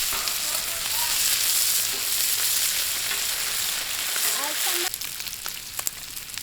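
Bacon sizzles and spits loudly on a Blackstone griddle in a dense, continuous frying hiss, with a few clinks and a spatula scraping near the end.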